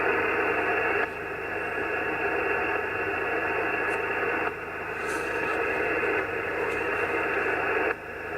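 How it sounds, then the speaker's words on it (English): Packet radio data bursting on the 40-metre amateur band: a steady hissing, buzzy tone with repeated block-like bursts that switch on and off over a noisy static background, heard close through a transceiver. "Sounds like somebody's sending packet on there without actually bothering to check whether the frequency is clear or not."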